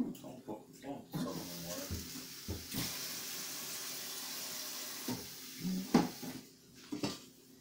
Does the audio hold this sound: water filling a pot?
yes